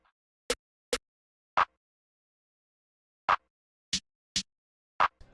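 A sparse plugg beat pattern of hi-hat and snare hits: seven isolated, crisp percussive strikes at uneven spacing over about five seconds, fairly quiet, with no talking.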